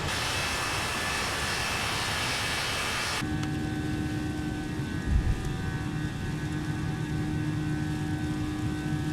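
Airbus A320neo jet climbing after takeoff in a flight simulator, a steady broadband engine roar that shifts abruptly to a lower, more tonal hum with a faint thump.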